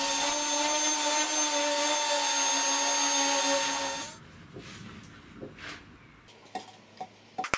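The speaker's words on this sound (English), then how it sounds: "Then I can sand the panels to be almost finished ready." A power sander runs steadily on wooden panels for about four seconds and then cuts off, leaving quiet workshop handling noises and a few light knocks.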